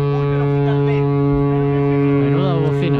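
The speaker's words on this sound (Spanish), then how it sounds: "Dani, eso es una bocina y no la de mi coche." Cruise ship horn blasting as the ship departs, a loud, deep, sustained tone held throughout with voices talking over it.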